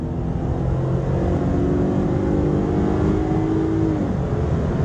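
A truck fitted with Yukon gears and AirLift 1000 airbags launches hard from a standstill, its engine droning loud and steady while it pulls away, with a rising tone as it gathers speed and no talking.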